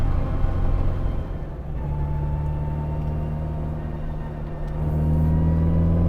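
A Mk 3 Mini Cooper S with a 76 brake horsepower engine accelerates hard, its steady close-up drone climbing in pitch and holding loud and alone throughout.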